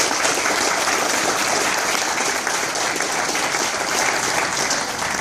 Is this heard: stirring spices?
no